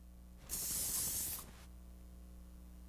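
Hairspray hisses from an aerosol can onto freshly groomed, teased hair for a formal updo, a single steady burst about a second long, close and fairly loud against a quiet room.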